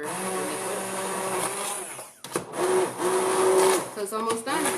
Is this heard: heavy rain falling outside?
no